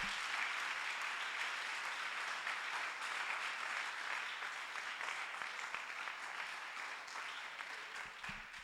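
A church congregation applauding and cheering in acclaim of the Lord, a steady, even wash of many hands clapping that lasts the whole stretch, moderately distant and slowly tapering off.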